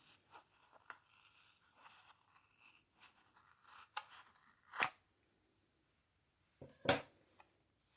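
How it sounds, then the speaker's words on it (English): Quiet snips and rustles of scissors cutting yarn for a mini gnome craft, ending in two sharper, louder cuts a couple of seconds apart, close and otherwise silent. "Take your scissors and start cutting your yarn at the bottom."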